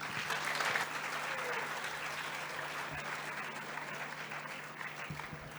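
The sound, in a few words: applause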